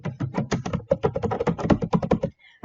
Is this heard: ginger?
no